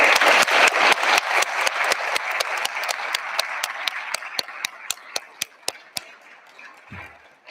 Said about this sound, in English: give a huge hand of applause to the two guardians